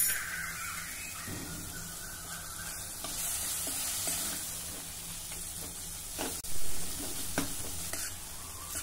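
Onion with a medium tomato and a little salt cooking in a pan, a continuous close sizzle with a few stirring scrapes and one louder clatter near the end, and no talking.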